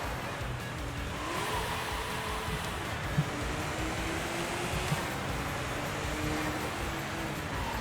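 A BMW M3 drives in the racing video game Sega GT, its engine holding a continuous droning note that rises and shifts slightly, with a couple of faint tire or contact thumps.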